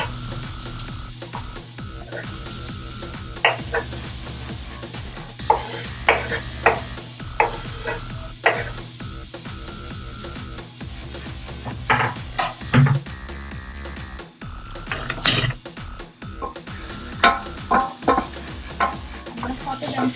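Vegetables are being sautéed in a pan, with a low background sizzle broken by repeated scraping and stirring knocks of a utensil against the pan, close and fairly loud.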